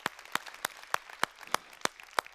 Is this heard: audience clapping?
yes